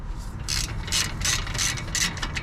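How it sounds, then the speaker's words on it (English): Ratchet turning a 17 mm socket to loosen a brake caliper bolt on a 2016 Kia Sorento 3.3, heard as a close series of about seven quick, evenly spaced clicking bursts. "I'm gonna go ahead, grab my ratchet and my 17, and I'm gonna break it loose"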